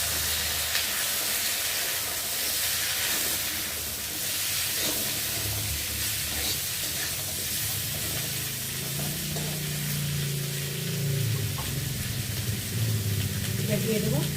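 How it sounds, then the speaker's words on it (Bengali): Chopped potatoes and vegetable stalks sizzle with browned onion in a hot pan, a continuous hiss of frying under a low, murmuring voice. "এবার কেটে রাখা আলু আর ডাঁটাগুলো দিয়ে পেঁয়াজের সাথে একসাথেই আর ভেজে নেব।"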